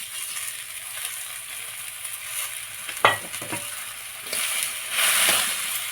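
Mangoes being stirred with sugar in a pan for a sweet-sour pickle, a steady low sizzle broken by a few scraping spoon strokes at mid-clip and a louder stir near the end.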